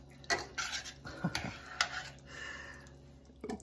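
Curly fusilli pasta tossed in a pan on the stove, with a few quick metallic clanks and scrapes of utensil against pan, close and brief with short gaps between.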